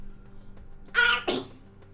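A person sneezes close by, a two-part burst with a sharp intake and an explosive release, loud against a quiet room.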